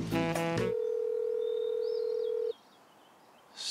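A telephone ringing on the line: one steady, even ring tone holds for about two seconds after a short burst of noise, then stops, leaving quiet background.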